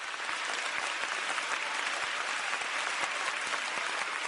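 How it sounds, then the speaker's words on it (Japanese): An audience keeps applauding in a concert hall after an orchestra's performance, a continuous, even wash of many hands clapping at a moderate distance. "客席ではまだ拍手が続いています。"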